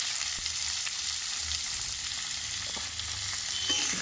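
Beans, papaya and potato fry in a pan with a steady, close sizzle and crackle, with occasional stirring scrapes and no talking.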